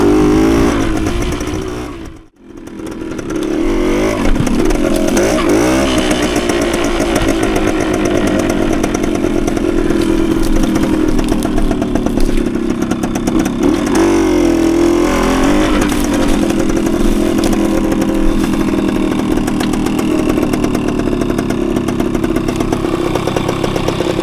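Close, loud engine of a 1980 Suzuki TS185 motorcycle being ridden, a steady buzzing two-stroke drone with pitch rising and falling through throttle changes after a brief dip near the start.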